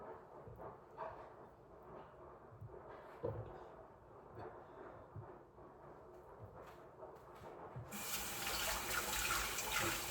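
Water pours steadily into a mixer jar, a continuous splashing rush that grows louder and brighter near the end.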